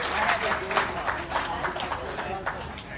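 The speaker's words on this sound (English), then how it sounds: "Let's give her a big round of applause." Audience applause at a wedding reception after a speech: dense, continuous clapping from a crowd, moderately loud, with voices talking over it.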